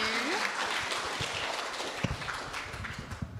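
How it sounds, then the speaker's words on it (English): A small orientation audience claps for a student speaker at a women-in-engineering session, a thin, scattered patter of hands at moderate level with a brief murmur of voices underneath. "Okay, give a little round of applause."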